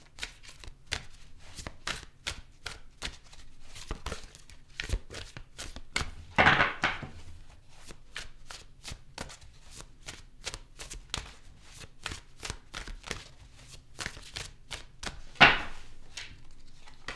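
Tarot cards are shuffled for a reading in a quiet room, giving soft, rapid riffling clicks and taps with a couple of louder brushing bursts, no talk.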